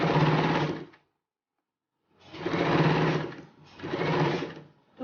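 A sewing machine stitches a seam on a homemade kimono dress, with a loud run of about a second, a pause, then two more close, steady bursts of motor whirring and needle clatter, no talk.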